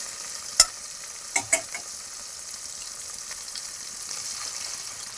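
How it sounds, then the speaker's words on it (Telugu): Rasam made with horse gram is poured and stirred into fried onions in a pan, giving a soft steady sizzle with a few sharp clicks of the utensil early on, close and fairly quiet with no talk. "ఇప్పుడు చారు పోస్తున్నాను."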